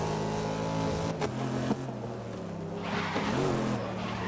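A race car engine in the racing game Grid (2019) revs and shifts with a steady tonal drone, rising briefly at a gear change, moderately loud throughout.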